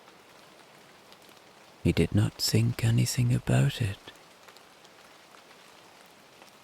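Steady rain falling in a continuous soft hiss throughout, with a calm voice narrating over it for a couple of seconds midway.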